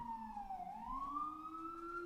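Police siren wailing as an NYPD car drives past outside, a steady rising and falling tone that stays loud and close across the whole stretch with no talk over it.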